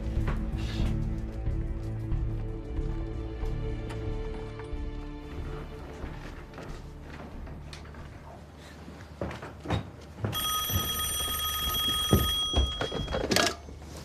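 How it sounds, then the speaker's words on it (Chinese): An old-style telephone rings in a war film set during the Battle of Shangganling, its bell trilling in repeated bursts late in the scene over a busy backdrop of music and clatter, with no speech. "参谋长，王副司令电话。"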